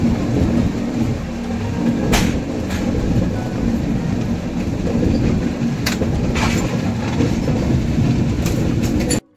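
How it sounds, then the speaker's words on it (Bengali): The Jammu Tawi Express rumbles with low, steady rolling noise, and a few sharp metallic squeals cut through as it slows to a halt at a station platform, close by. "এখন ট্রেনটা এসে জাস্ট দাঁড়ালো"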